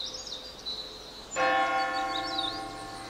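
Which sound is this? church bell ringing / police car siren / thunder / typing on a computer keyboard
church bell ringing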